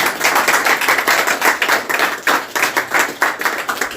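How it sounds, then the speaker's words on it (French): A congregation claps along at a church service, with rapid, steady rhythmic handclaps filling the room from start to finish and no talk over them. "Applaudissons pour le Seigneur."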